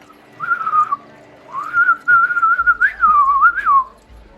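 A person's voice whistles in several wavering, pitch-sliding phrases, imitating the calls of a fantasy creature, loud and close with short pauses between the phrases.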